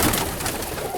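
Young roller pigeons give a soft, close coo in a single brief burst, with no voices present.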